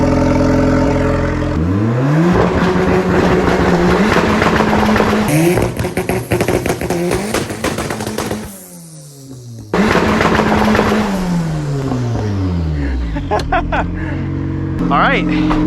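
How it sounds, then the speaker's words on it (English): A turbocharged Honda Civic on a drag strip revs hard through a burnout, with loud repeated engine surges climbing and falling, a brief lull near the middle, then another long rev that winds back down. "All right, we did do a burnout, boys."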